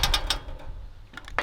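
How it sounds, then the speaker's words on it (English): A boat lift sprocket turning and moving its chain, producing a few close clicking, ratcheting mechanical bursts with a quieter gap between them, no voices. "That sprocket keeps turning and moving the chain, exposing more for me to grease."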